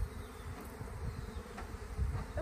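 A swarm of honey bees buzzes continuously in a dense, droning hum, close by and steady, with individual bees passing now and then.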